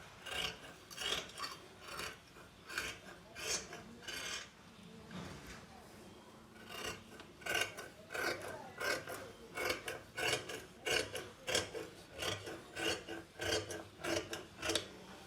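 Scissors snip through fabric while a kids' long blouse is cut out, giving a run of quick, rhythmic crisp cuts that are faint and close, with a low hum in the background.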